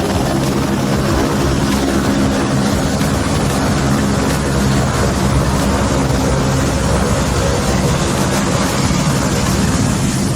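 A Bell 206 Long Ranger helicopter holds a steady hover, its rotor and turbine producing a loud, continuous, close-up roar with a dense rhythmic chop that stays even throughout.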